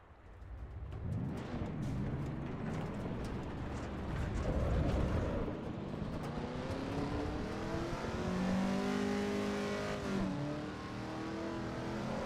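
A race car engine in the Assetto Corsa EVO driving game revs and climbs through the gears, a continuous engine note that rises and falls with shifts, steady and moderately loud with no talking.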